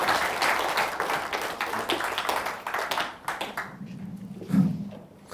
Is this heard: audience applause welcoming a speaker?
yes